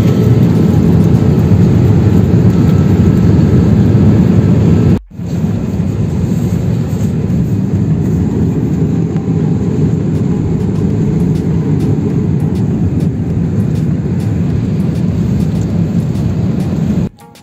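Steady, loud airplane cabin roar during a flight from Nigeria to Canada: a dense low rumble and hiss that runs continuously, broken only by a brief dropout partway through and another at the very end.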